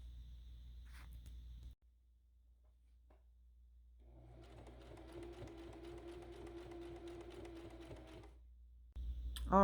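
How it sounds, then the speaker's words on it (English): A sewing machine stitches a DIY tote bag closed, running in a steady rapid burst of several seconds after a few quiet handling clicks, close and fairly soft. "So we're gonna go back to the sewing machine"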